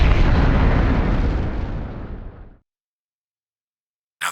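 A massive explosion in the Virtue's Last Reward video game, a loud roaring rumble that fills the opening seconds and slowly decays into sudden silence before a brief thump at the very end.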